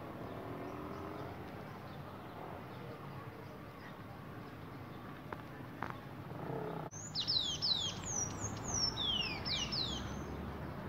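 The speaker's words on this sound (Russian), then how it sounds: "Эта птичка с красной головой называется по-русски овсяновка." A small red-headed bunting sings a quick series of bright, high chirps partway through, over a steady low outdoor rumble; no talking.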